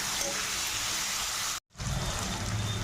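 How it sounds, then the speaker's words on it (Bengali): Chopped onions and turmeric frying in a pan for a potato and cauliflower curry: a dense, steady sizzle with a brief silent cut partway through before the frying resumes. "হলুদ, আর পেঁয়াজ কুচিগুলো দিয়ে একসঙ্গে ভেজে নেব।"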